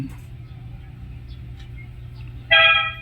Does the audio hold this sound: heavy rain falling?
no